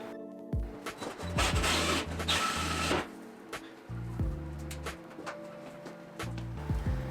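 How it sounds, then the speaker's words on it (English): A power drill boring holes into a house ceiling, with a dust-catching box pressed against it: a fairly faint, humming motor whine in several bursts, including a harsher grinding stretch, and no talking. "When you're drilling these holes in the ceiling, it just throws dust all off this bit into your face"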